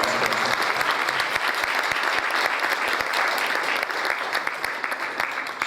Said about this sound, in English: give her a round of applause for my senior vice president